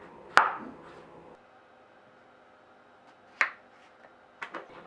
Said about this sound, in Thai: แตงกวานี่ก็หั่นสี่ส่วนก่อนค่ะ